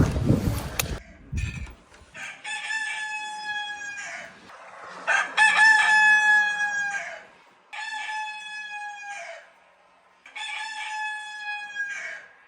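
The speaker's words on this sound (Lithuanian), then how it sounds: "Gaidys jau už lango." A rooster crows four times in Tenerife in long, loud, ringing calls separated by short pauses, after a brief burst of noise at the start.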